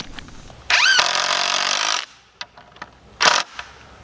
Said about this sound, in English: we need to put some lag screws through the metal into the wood.